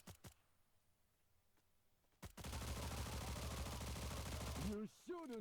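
Gunfire in the video game Stalker: after a quiet stretch, a loud, rapid automatic burst rattles continuously for about two and a half seconds, then cuts off as a brief voice follows.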